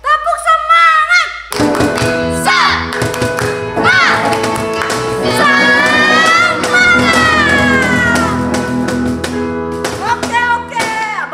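Children clap the tepuk semangat rhythm, patterned taps and claps mixed with loud chanting voices and sung tones across a lively group, continuing steadily throughout.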